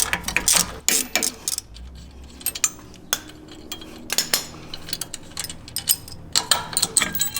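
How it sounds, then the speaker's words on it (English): A 9/16 inch socket and wrench loosening shock hardware on a Jeep JL Wrangler, close metallic ratcheting clicks and clinks in irregular bursts, with light tool clatter between them. "use 9/16 inch socket and wrench to remove the rest of this hardware"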